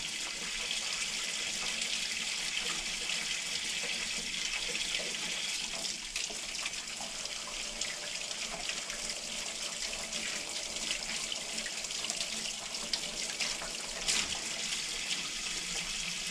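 Tap water runs in a steady, unbroken gush for the whole stretch while a cheap, throwaway paint brush is rinsed clean in a sink, with no voices over it.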